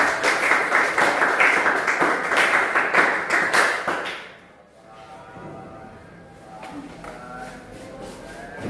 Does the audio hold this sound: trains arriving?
no